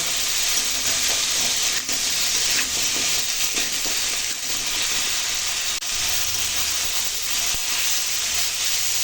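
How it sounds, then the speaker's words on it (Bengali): Vegetables sautéing in a pan with turmeric powder and salt make a steady, dense sizzle and hiss that runs unbroken throughout, close and loud with no voices. "হলুদের গুঁড়ো দেবো স্বাদ মতো লবণ দিয়ে এখন সবজিটা একটু কষিয়ে নেব"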